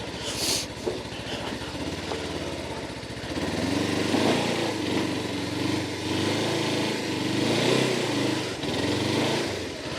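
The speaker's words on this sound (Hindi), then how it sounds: "यहाँ से बाइक टर्न करने की कोशिश करते हैं जी।" Heavy motorcycle engine rumbling steadily while riding and turning through rough rural terrain, a low continuous drone close by with slight swells in intensity.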